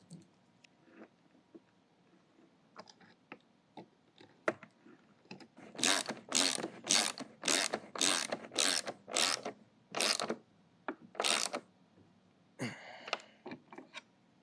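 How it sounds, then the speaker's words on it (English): Ratcheting clicks from a wrench tightening nuts on 13mm bolts while mounting the caster bracket of a Tennant S5 floor scrubber, sparse clicks and handling noises, then a series of rapid ratchet bursts in rhythmic strokes, close and fairly loud. "insert the two 13mm bolts, and then make sure you tighten the nuts down on the back side"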